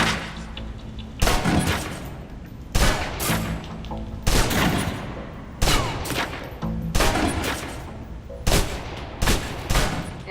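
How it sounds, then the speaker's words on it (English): A submachine gun empties a full magazine in the video game Alpha Protocol, firing in about seven loud, sharp bursts separated by short pauses, with no talking. "Now, let's move on to the submachine gun. Now let's empty the clip."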